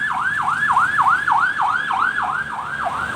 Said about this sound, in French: Je laisse passer l'ambulance.